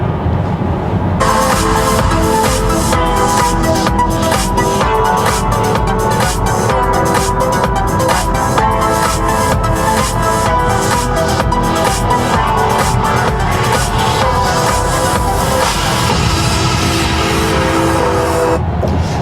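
Music plays through the sound system of a 2023 Volkswagen ID.4 Pro electric SUV, heard inside the cabin. It is steady and fairly loud with a clear rhythmic beat and melody, and no one speaks over it.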